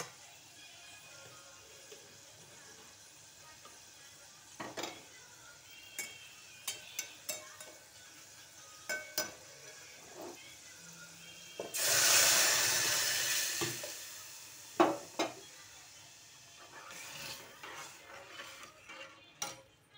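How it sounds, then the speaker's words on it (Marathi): A pot of sambar made from lentils and tomatoes boils quietly, giving off scattered soft pops and bubbles. Midway there is a short, louder surge of hissing steam. "बघा आता सांबार उकळलं आहे."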